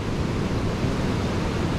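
Steady wind and surf at New Smyrna Beach, a dense, constant rush of breaking waves and wind noise on the microphone, loud and unbroken throughout.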